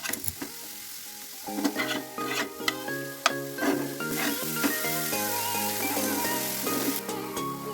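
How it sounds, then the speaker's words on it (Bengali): Cauliflower frying with spices in a pan, with stirring scrapes and sizzling heard under steady background music. "ফুলকপিগুলোকে ভালো করে একটু ভাজা ভাজা করে নেব"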